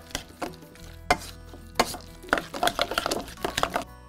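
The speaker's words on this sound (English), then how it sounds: "I'm gonna use a potato masher" Tender cooked beans are pressed with a potato masher into a near-smooth puree, giving a series of soft, wet squelching thumps that quicken into a dense cluster of strokes toward the end, close and fairly quiet.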